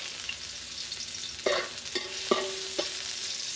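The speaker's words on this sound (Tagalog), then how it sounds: "umpisahan na po natin ang pagigisa po natin para sa ating lumpiang sariwa" Garlic sizzles in hot oil as it is sautéed for lumpiang sariwa, a steady hiss broken by four sharp scrapes of a spatula against the pan, with no one speaking.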